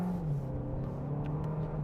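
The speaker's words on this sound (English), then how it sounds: "let's see how quickly it accelerates out of this T-junction with a bit of steering lock as well" A VW T-Roc pulls out of a T-junction under hard acceleration with steering lock and a bit of wheel spin, its engine droning steadily and rising slightly, close and continuous for the whole stretch.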